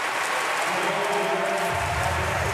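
Audience applause fills a Paralympic powerlifting venue in Paris after a failed press attempt, a steady dense wash of clapping throughout, with a deeper crowd rumble swelling in near the end.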